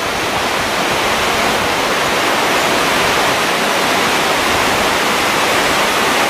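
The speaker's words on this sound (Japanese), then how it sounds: "綺麗な滝です。" The Amagoi waterfall roars as a steady, dense rush of falling water, loud and close, unchanging throughout with no voices over it.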